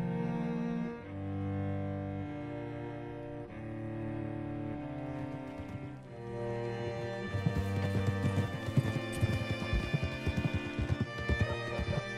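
Horse hooves clip-clop in the video game Red Dead Redemption 2, a steady rhythmic beat that grows busier in the second half and sits beneath a loud, continuous musical score.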